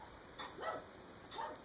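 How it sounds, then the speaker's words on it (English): A dog gives two short, faint barks or yips in a quiet room, spaced about a second apart, with no talk over them. "That's my dog Zipper."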